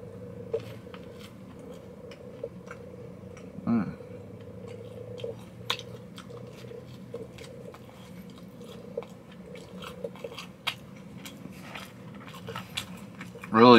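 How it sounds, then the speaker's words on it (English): Buttery toast bread being bitten and chewed close up, soft crunches and mouth sounds recurring at intervals over a low steady background hum, with one louder crunch near the end. "Now I'm going to try the toast bread."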